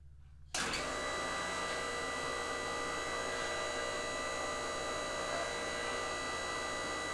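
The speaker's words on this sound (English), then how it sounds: "we're going to turn it on and we're going to bring the punch to the uppermost position." A MetalPro ironworker machine switches on with a sudden rise into a steady, loud motor drone and hum that holds unchanged while the punch travels to its top position.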